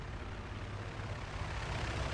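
An aircraft approaches in a Soviet-side war video game, producing a steady droning engine roar that sits moderately loud and unchanging, alone without talk.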